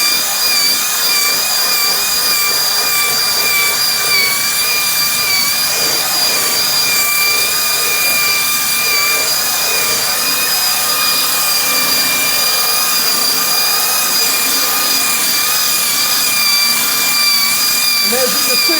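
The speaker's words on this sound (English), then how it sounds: "See how you buff. I do this just to fling the extra wax off." A power buffer polishes a car headlight, flinging off the excess wax with a steady high-pitched whine and several stable tones. It runs continuously at close range, with a faint voice in the background.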